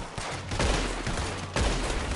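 Gunfire in the video game Red Dead Redemption 2 on the Island of Guarma, a loud dense burst of repeated shots with a second volley following, no talk over it.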